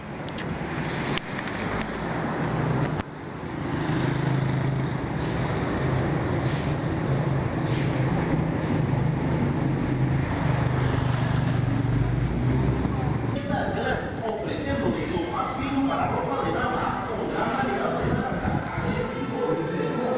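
Ride through town in a vehicle, a steady low rumble of road and engine noise with wind and passing street sounds running throughout, a brief bump early on.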